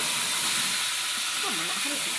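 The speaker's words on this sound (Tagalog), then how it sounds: "piprito muna ako ng tilapia" Tilapia frying in hot oil, a steady, loud sizzle and hiss throughout, with a few faint voices murmuring underneath.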